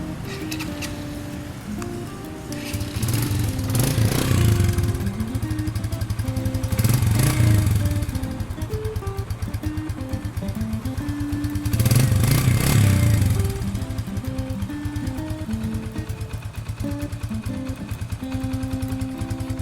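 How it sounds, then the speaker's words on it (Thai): The stock engine of a 2016 Stallion Centaur Siam 150 motorcycle idles close by with a steady, even putter, while a few soft swells of higher revving rise and fall over it. "เครื่องยนต์ดีนะครับ เดินเบา นิ่งๆเลยนะครับ"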